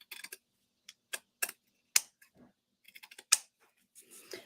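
Scissors trim craft material for a spring sign, producing a series of crisp, close snips in irregular bursts with quiet gaps between them.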